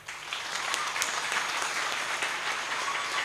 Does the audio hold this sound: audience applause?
yes